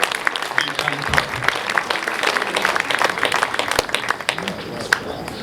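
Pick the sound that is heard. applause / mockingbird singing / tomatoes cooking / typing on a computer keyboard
applause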